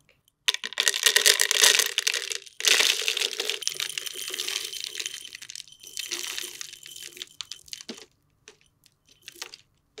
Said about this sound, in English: we're going to take the gravel and fill it up to the 2-inch mark